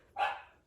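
A single short, sharp dog bark heard indoors at moderate distance, abrupt onset then quickly fading, alone without talk.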